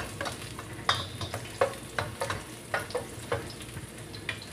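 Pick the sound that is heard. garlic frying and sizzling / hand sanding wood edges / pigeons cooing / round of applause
garlic frying and sizzling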